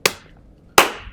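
Two slow, deliberate hand claps, sharp and close, about three quarters of a second apart, each ringing briefly before fading.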